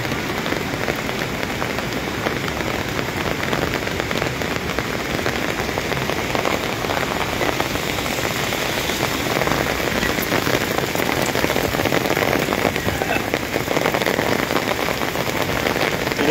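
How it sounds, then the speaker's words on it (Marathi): Heavy rain pours down without pause, making a dense, even roar of drops hitting surfaces close by for the whole stretch, with no voices. "उभा पाऊस चालू आहे मजबूत जोरात."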